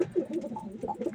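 Pigeons coo softly inside a loft, low throaty burbling calls overlapping in short repeated phrases, close and fairly quiet with no talk.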